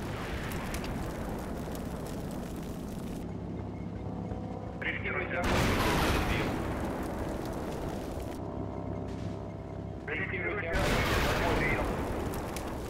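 Tank main gun shots in the Combat Mission Red Thunder wargame, two loud broadband booms several seconds apart, each trailing into rumble over a steady battle ambience.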